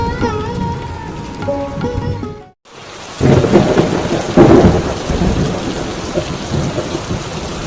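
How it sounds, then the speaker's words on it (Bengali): An animated story scene shifts abruptly from soft music to a loud downpour with rolling thunder, the rain hissing steadily and the thunder swelling midway through. "এই বৃষ্টির ভিতর তুমি এখানে কি করছো"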